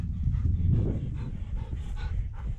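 Hunting dogs panting hard and steadily while working upland cover in mixed high-country terrain, a close, continuous breathy rhythm with faint rustling and no speech.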